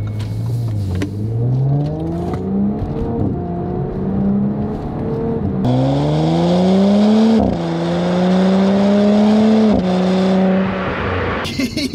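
A 2018 Audi S5 Sportback on its stock exhaust accelerates hard through several gears, the engine note climbing and dropping at each shift, loud and close inside the car, with no talking.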